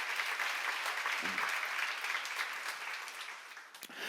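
An audience at a church seminar applauds in a dense, sustained burst of clapping that tapers off near the end, heard from within the room.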